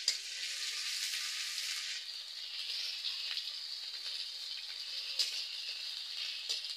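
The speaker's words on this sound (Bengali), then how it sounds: "রসুনটা ভাজা হয়ে গেছে," Garlic paste fries in a pan along with slit green chillies and chopped onion, a continuous soft, close sizzle with a few faint stirring taps.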